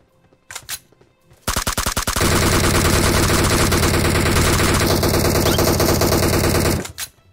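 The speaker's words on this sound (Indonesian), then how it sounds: "Ada yang nembakin gua dari jauh." Bursts of gunfire in the mobile battle-royale game PUBG Mobile: a few separate shots, then a long, loud sustained stream of rapid automatic fire lasting several seconds before cutting off, with a brief final shot.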